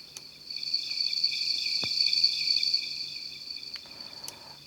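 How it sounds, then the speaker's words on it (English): Steady, high-pitched cricket chirping fills the background, a continuous buzzing trill with a few faint clicks and no voices. "just crickets."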